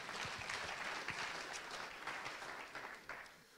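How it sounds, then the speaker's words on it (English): Audience applause greeting a professor invited to speak on infection and return to play in sport, a steady, fairly quiet wash of clapping from a seated crowd that holds for several seconds and tapers slightly. "A very warm round of applause to Professor Schwellnus."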